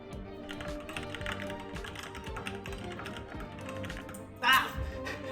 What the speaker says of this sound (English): I'm going to do a typing test.